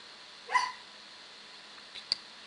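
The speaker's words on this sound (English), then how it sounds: "Apologize for the dog in the background." A pet dog in a quiet indoor room gives a single short bark at moderate distance, followed by a fainter yelp and a quick sharp yip, with steady background hiss throughout.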